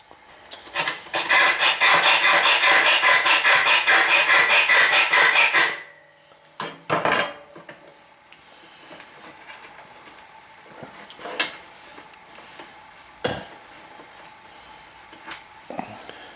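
Cutting the head off a hammered-in nail: a rapid, rhythmic metallic grinding or sawing for several seconds, then a few isolated clanks and scrapes among quieter handling noise.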